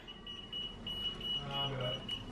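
A high-pitched electronic beep repeats in quick pulses, fairly faint, while people talk nearby.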